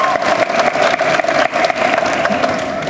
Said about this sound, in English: round of applause for all the speakers.